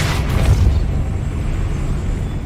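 A Depulso spell blast in the video game Hogwarts Legacy: one heavy, booming burst at the start that rolls off into a low rumbling tail and fades over a couple of seconds.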